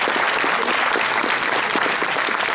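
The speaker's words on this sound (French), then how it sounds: "Merci d'applaudir les Canards d'Ariane." A dense, steady burst of audience clapping fills the room at a live event, loud and close throughout with no break or voice above it.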